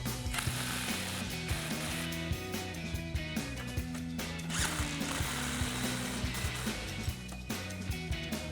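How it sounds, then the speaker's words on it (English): A 19mm socket on a ratchet wrench tightens bolts on a Jeep Wrangler JK steering linkage, a quick run of repeated clicking pawl strokes in an even rhythm, close and clear with no talking. "Now we can grab our 19mm socket and wrench and tighten down both of our bolts."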